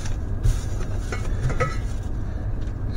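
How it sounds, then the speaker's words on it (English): Two stainless steel 10 quart pans clank faintly a few times against a steady low background rumble, with light metallic clinks scattered through. "we finally got two stainless steel 10 quart pans"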